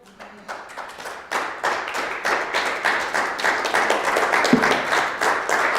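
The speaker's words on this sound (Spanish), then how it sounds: "Damos un aplauso al Señor." A church congregation bursts into applause during a sermon, the clapping starting thinly and quickly swelling into a steady, dense roar of many hands that stays strong to the end.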